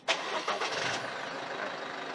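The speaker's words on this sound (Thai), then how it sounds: "ตัวนี้เครื่องยนต์สตาร์ทขึ้นมานะครับ" A 2023 Isuzu MU-X engine cranks and catches via remote start, then settles into a steady idle, heard alone at moderate distance.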